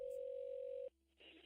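A telephone dial tone hums steadily for just under a second, then cuts off abruptly and is followed by faint line noise.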